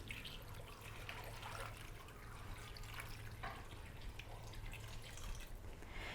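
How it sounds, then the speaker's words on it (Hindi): Faint trickling and dripping water, a soft steady flow of water poured into a pot, quiet under a low background hum. "साथ ही हम इसमें शामिल करेंगे 2 कप पानी।"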